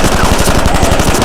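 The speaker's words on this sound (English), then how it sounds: "they're about to unload an unreasonable amount of ammo into the second officer" Rapid automatic gunfire from a low-budget knock-off action film, a loud dense burst of machine-gun shots in quick regular rhythm, filling the whole moment with no talking.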